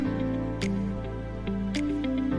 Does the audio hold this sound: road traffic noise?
no